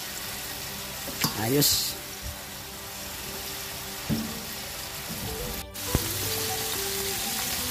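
Pork belly, about half a kilo, fries in a pan until golden brown on both sides, a steady soft sizzle throughout with a few clinks of utensils and a brief spoken word.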